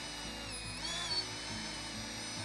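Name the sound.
cordless drill winding mason's line onto a spool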